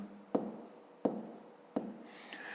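A pen writes digits on paper while working a grade 5 multiplication exercise by hand, giving four short, crisp scratching strokes spaced about 0.7 seconds apart over a quiet background, with no talking.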